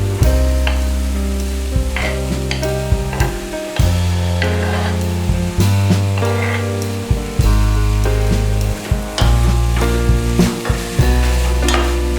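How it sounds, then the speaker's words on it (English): Capsicum stirred into a pot of softened tomatoes for a one-pot rice dish, giving a steady loud sizzle with repeated scraping and clattering stirs throughout. "Now add the capsicum and give it a good mix."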